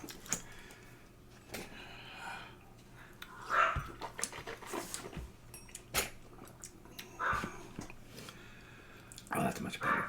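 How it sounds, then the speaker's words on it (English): Stella the dog barks in short, scattered bursts, some fairly near and some fainter, over a quiet indoor room with a steady low hum and occasional clinks. "Of course, Stella decides she wants to bark at this point."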